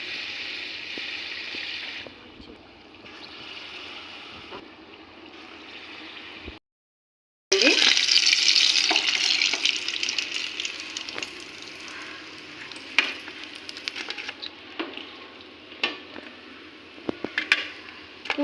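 Poornam burelu, sweet stuffed fritters, deep-fry in hot oil with a steady close sizzle and bubbling. The sound breaks off briefly, then returns louder with scattered sharp crackles.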